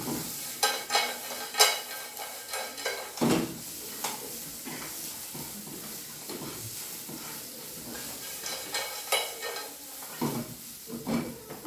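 Clams and other seafood stir-fried in a pan, with a steady sizzle broken up by scraping and clinking of utensils against the pan, fairly close and without talk.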